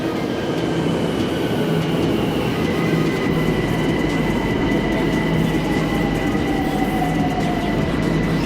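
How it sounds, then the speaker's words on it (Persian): Steady loud rumble of a Tehran metro train running underground, with a constant roar and faint tonal whines from the wheels and motors, no voices. "خب اینم از مترو تهران."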